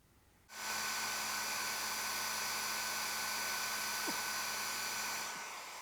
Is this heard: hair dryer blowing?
yes